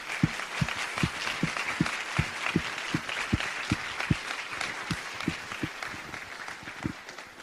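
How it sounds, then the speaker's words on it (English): An audience at a UIST conference opening session applauds the program committee, sustained clapping mixed with a few heavier, evenly spaced thumps near the microphone throughout. "could you quickly stand up and receive a round of applause?"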